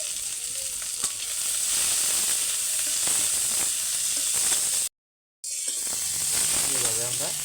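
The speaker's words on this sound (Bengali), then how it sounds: "এইভাবে আমরা ভাজা নেব।" Onions sizzle and fry steadily in hot oil for a Bengali paneer and masoor dal dish, a loud continuous crackling hiss broken by a brief silent gap, with a voice talking faintly near the end.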